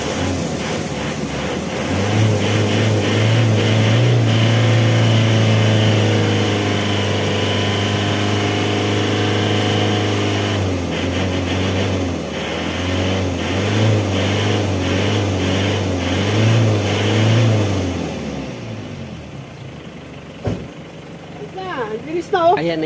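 A car engine runs after its muffler has been cleaned, idling with a steady low rumble and a few revs, close and fairly loud for about twenty seconds before cutting off, with some background noise at the end.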